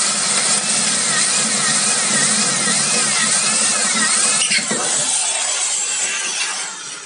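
A drill bores into hard stainless steel greased to protect the bit, giving a loud, steady grinding whine with a wavering pitch that runs unbroken and eases slightly near the end.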